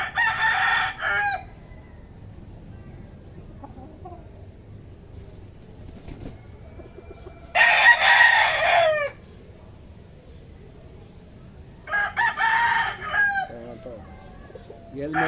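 A rooster at a backyard chicken breeder's yard crows three times at spaced intervals, each call loud and close over a quiet outdoor background.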